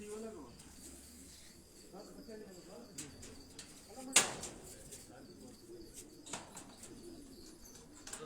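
Pigeons in a loft with breeding cages coo softly at a distance amid faint insect chirping, a quiet backdrop broken by occasional clicks and one sharp rattling knock, with low voices murmuring now and then.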